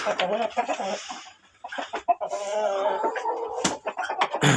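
Chickens warming under a heat lamp in a coop cluck and murmur close by in a steady stream of soft, overlapping calls, with a few sharper squawks toward the end.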